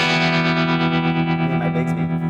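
Electric guitar played through a Strymon Flint tremolo and reverb pedal, sustained chords ringing with a wash of reverb and a slight pulsing wobble, loud and close with no talking.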